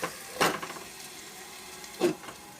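Tomatoes cooking in a pan over a medium gas flame give a soft, low sizzle, with two brief louder scraping stirs standing out against the quiet bubbling.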